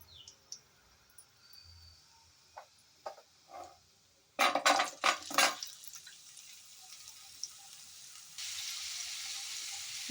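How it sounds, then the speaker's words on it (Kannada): Pumpkin pieces tumble into hot oil with dried red chillies in a tempering, setting off a burst of crackling sizzle that settles into a steady, hissing fry after a few scattered pops. "ನಮ್ಮ ಒಣಮೆಣಸು ಸ್ವಲ್ಪ ಗಮ್ ಅಂತ ಸ್ಮೆಲ್ ಬರೋಷ್ಟರಲ್ಲಿ ಅದಕ್ಕೆ ಕುಂಬಳಕಾಯಿ ಹಾಕ್ತೀನಿ"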